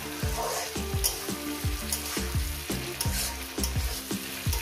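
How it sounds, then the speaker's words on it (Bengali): Green chilies go into a pan with yardlong beans and potatoes frying in oil, a close, continuous sizzle broken by regular scraping strokes of a spatula stirring roughly twice a second. "লঙ্কাটাকে দিয়ে আরও 1 মিনিট ভেজে নেব"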